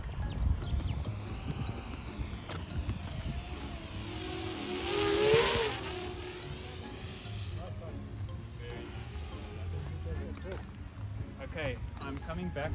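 A 10-inch FPV drone flies past outdoors, its propeller whine rising in pitch as it approaches and falling as it moves away, peaking loudest midway, with people talking throughout.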